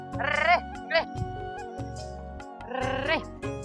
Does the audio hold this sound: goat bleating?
yes